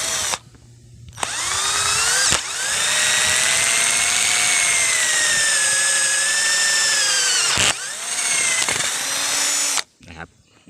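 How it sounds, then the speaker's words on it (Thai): A cordless power drill with a 16 mm bit whines loudly in long sustained bursts, pitch shifting under load as it bores holes, with brief pauses between runs. "เจาะเป็นรูเลยนะครับ"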